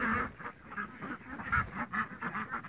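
Muscovy ducks in a farmyard quack in a steady run of short, repeated calls, near and fairly loud, with no voices over them.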